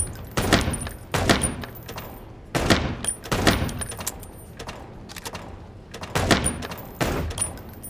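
Gunfire in the video game Chicken Police: Paint it Red, heard as several loud, close bursts of shots at irregular intervals over a low background rumble, with no speech.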